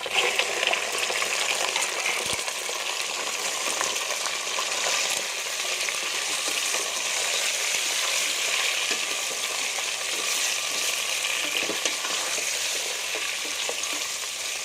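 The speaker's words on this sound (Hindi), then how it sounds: "अब इसके अंदर हम चिकन ऐड करके उसकी हम भुनाई करेंगे।" Chicken fries with browned onions in a pan, giving a loud, dense, continuous sizzle with occasional stirring scrapes. No voices are heard.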